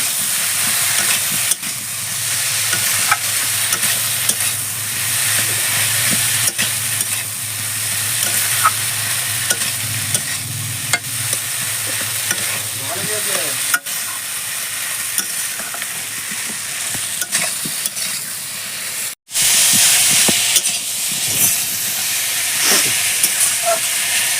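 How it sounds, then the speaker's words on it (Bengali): Soya chunks stirred and fried in a pan, a long loud steady sizzle and hiss with repeated scraping of the spatula, nearby and uninterrupted apart from one brief cut. "এবার আমি এটা নেড়ে নেবো"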